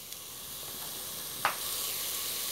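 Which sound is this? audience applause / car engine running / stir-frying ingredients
stir-frying ingredients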